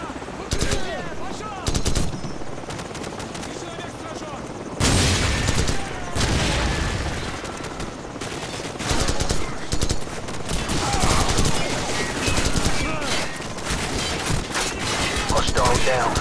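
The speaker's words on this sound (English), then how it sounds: "Give me some covering fire." Gunfire in the Call of Duty: Modern Warfare video game, with rapid bursts of automatic fire and booming shots in dense, loud volleys that continue almost without pause under occasional voices.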